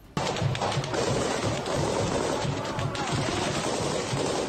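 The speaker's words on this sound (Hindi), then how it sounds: "चेचन स्पेशल फोर्स के ये लड़ाके एक इमारत पर ताबड़तोड़ गोलियां बरसाते दिखाई दिए" Dense, continuous rattle of gunfire from Chechen special forces firing on a building in the Russia-Ukraine war, rapid bursts layered over each other, loud and sustained throughout with no pauses.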